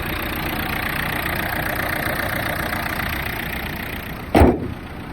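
A diesel Renault Megane 3 1.5 dCi engine idles steadily with a low, even rumble, close and constant, followed by a brief thump near the end.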